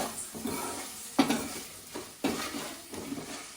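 Okra (bhindi) frying in a pan in a village home kitchen, a steady crackling sizzle broken by a few sharp stirring scrapes and clinks of a utensil against the pan, close up with no talk.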